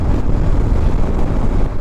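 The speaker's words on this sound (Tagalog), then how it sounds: "napakalakas ng mga hangin dito" Strong wind roars and buffets the microphone continuously during a ride on a Honda ADV160 scooter, a dense low rumble with no pauses and no voices.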